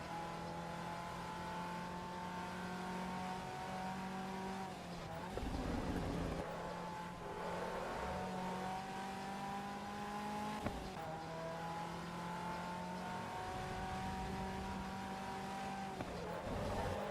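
A racing car's engine in Assetto Corsa EVO during a multiplayer lap holds steady high-pitched whines, with sharp breaks at gear shifts and a brief tire squeal. No one speaks.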